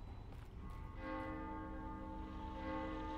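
A church bell tolls inside The Evil Within's The Assignment DLC, its long ringing tones sustained and layered over a low rumbling ambient background, fairly faint throughout.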